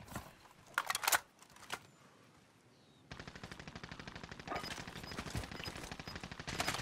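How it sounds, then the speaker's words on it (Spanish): Gunfire in a shooter video game: a few separate loud shots, a quiet pause, then sustained rapid automatic fire with evenly spaced bursts that grows slightly louder, with no voices. "Por aquí he oído disparos."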